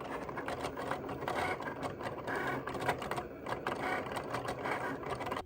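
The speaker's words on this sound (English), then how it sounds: "So now you can see it's actually cutting out the design. This machine is so great." A Cricut cutting machine cuts out a sticker label design, giving a steady close mechanical whir with fast ticking and rattling carriage movement that runs without pause.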